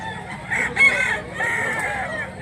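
A young rooster, a bullstag, gives a short, loud, close crow with a rising then held call, over a low background of other fowl at a market.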